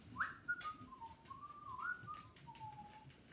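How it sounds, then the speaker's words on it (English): A person whistles like a zookeeper, a thin, wavering, bird-like melody of gliding notes that runs for a few seconds against quiet background noise. "whistling like a zookeeper."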